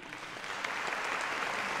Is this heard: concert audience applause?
yes